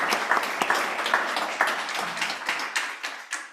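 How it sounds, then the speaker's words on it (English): Audience applause at a monthly startup pitch event, a steady patter of many hands clapping with sharp individual claps standing out, close and fairly loud throughout. "We'll give a round of applause to Sanket."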